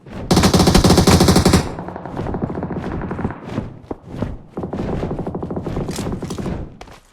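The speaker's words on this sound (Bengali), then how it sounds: "ও শিট শিট, আমাদের উপর ফায়ার হচ্ছে" Rapid automatic gunfire rattles in a PUBG Mobile match: a loud dense burst for the first second and a half, then repeated shorter volleys and single cracks keep coming at a steady pace.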